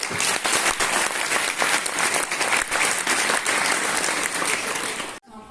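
Loud, sustained applause from a crowd, dense clapping that continues steadily before cutting off abruptly near the end.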